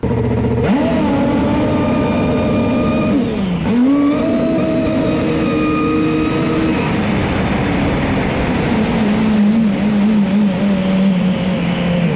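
A nitro drag racing engine at the Winternationals 2022 drones loud and close, its pitch rising, dipping and climbing again as the throttle goes on and off, with no voices.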